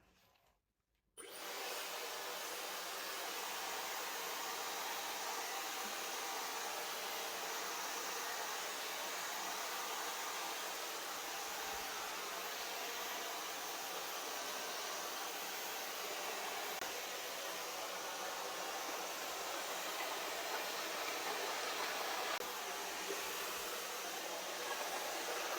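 A hair dryer fitted with a diffuser switches on after a second of quiet and runs as a steady, breathy whoosh while drying wavy hair, constant and close for the rest of the clip.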